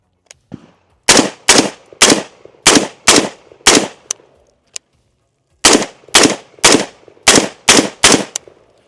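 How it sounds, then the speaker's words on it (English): An M16A2 rifle fires at targets in a loud string of sharp, close shots at a steady pace, with a short pause partway through before the shooting resumes. "we're going to be shooting center mass on the targets over"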